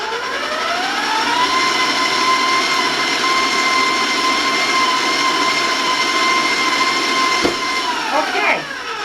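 Electric mixer running steadily in a bowl of gingerbread cookie dough, a loud continuous motor whine with a sustained high hum, close and unbroken, with a brief clatter near the end.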